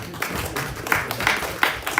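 An audience at an event gives a modest round of applause for a general manager, with clapping that rises and falls in uneven waves, moderately quiet and somewhat distant.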